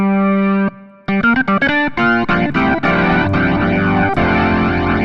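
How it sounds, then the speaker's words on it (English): A synthesizer-style organ tone, a VB3 II 2023 Edition virtual instrument, run through a limiter, sounds loud and dense: a held chord, a brief drop, then punchy repeated chords and sustained tones with distorted, heavily compressed character. "and we've got a limiter."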